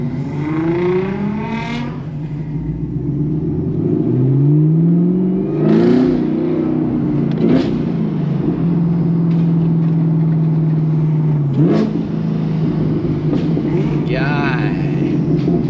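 A GTR supercar engine revs hard at a gas station ahead of a launch, with several rising and falling roars over a steady idle rumble while people talk nearby.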